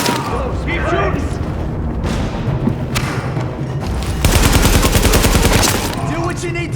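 Video game gunfire from The Division, with bursts of rapid automatic fire and single loud shots, the densest barrage coming in the second half, mixed with game voices talking.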